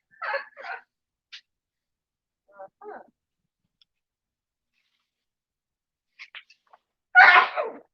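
Several small, faint sniffs and catches of breath lead up to one louder, close sneeze at the end, with near silence between the sounds.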